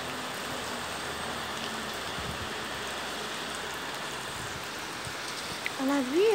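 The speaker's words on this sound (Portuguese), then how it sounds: "A chuva voltando." Heavy rain falls steadily near midnight in Poços de Caldas, Minas Gerais, a dense, even hiss filling the whole stretch, with a brief voice-like sound rising near the end.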